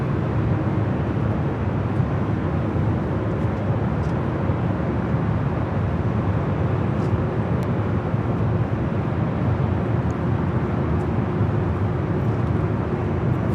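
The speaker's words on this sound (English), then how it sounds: "That is Air Tahiti Nui Flight 7, coming in from Paris on the 787-9 Dreamliner." An Air Tahiti Nui Boeing 787-9 Dreamliner comes in to land at LAX, a steady, moderately distant jet rumble that holds evenly throughout with no talking.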